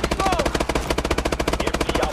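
Steady, rapid machine-gun fire in Call of Duty: Advanced Warfare, a loud close burst of evenly spaced shots hammering without pause during a battle in Seattle.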